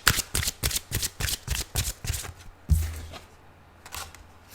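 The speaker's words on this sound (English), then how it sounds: "Just gonna start shuffle and see whatever wants to come up for you" Tarot cards shuffled by hand in quick, rhythmic riffling bursts, close and crisp, easing into softer slides and a single thud near the end, with no voices.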